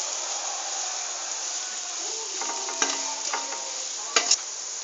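Onions fry in oil for Punjabi kadhi with a steady, even sizzle. Later a spoon stirs and scrapes the pan in a few brief clinks over the hiss.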